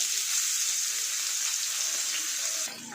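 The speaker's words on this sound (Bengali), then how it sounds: "গরম তেলের মধ্যে মশলা মাখানো তেলাপিয়া মাছ ছেড়ে দিচ্ছি" Spice-coated tilapia fish frying in hot white oil, a loud steady hiss and crackle close up that drops off abruptly near the end, with no talking.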